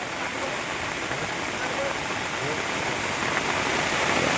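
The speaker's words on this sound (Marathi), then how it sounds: "पाण्याची लेवल एकदम गरगरावून वर इलेली आहे." Risen floodwater rushes past a farm in the Konkan, a loud, continuous roar of flowing water close at hand that swells slightly toward the end.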